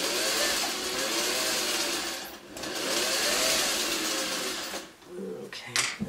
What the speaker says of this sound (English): So now I'm going to go across and I'm going to sew this line